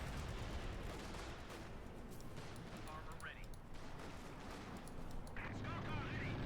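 A tank shell striking a Sturmpanzer in the Company of Heroes 2 video game, amid dense rumbling battle noise with booms and gunfire while a commentator talks over it.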